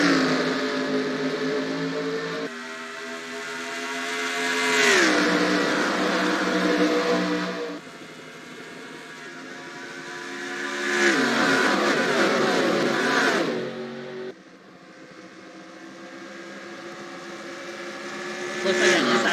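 Engines of stock cars in the NASCAR Racing 2003 video game roar at the green-flag start of the Brickyard 400 at Indianapolis, a dense pack revving and shifting in rising surges, loud and continuous throughout.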